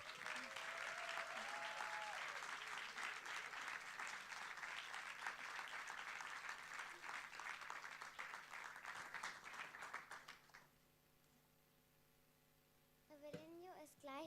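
An audience at a film festival award ceremony applauds with loud, sustained clapping for about ten seconds, then it cuts off abruptly into near silence before a brief sharp sound near the end.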